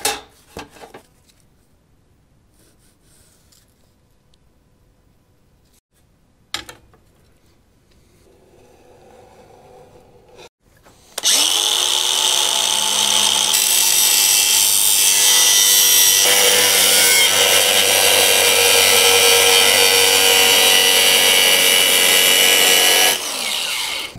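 A freehand cut through 1/8-inch steel plate follows a quiet stretch with a few knocks, then a loud, continuous grinding power-tool roar holds steady for about thirteen seconds before easing off.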